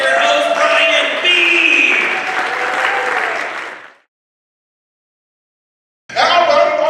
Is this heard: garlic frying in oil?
no